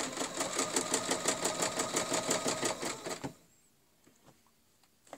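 A sewing machine stitches fabric in a fast, even run of mechanical clatter for about three seconds, then stops abruptly, leaving near silence with a few faint ticks.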